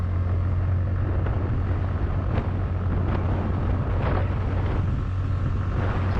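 A TVS NTorq 125 Race Edition BS6 scooter accelerates from a standstill, a steady engine drone under heavy wind rush on the microphone, with no talking.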